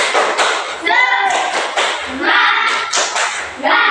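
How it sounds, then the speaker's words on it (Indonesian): Classroom students doing a rhythmic spirit clap, bursts of patterned claps and taps in quick groups, interleaved with children chanting together. "Tepuk semangat"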